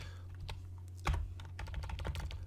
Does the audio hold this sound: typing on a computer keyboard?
yes